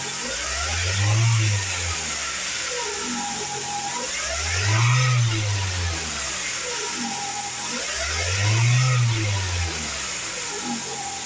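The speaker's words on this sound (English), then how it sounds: "engine run video" Engine of a 2010 Ford Focus with 106,908 miles running, a steady idle rising into three slow, evenly spaced revs that swell and fade, recorded close with a faint voice at times.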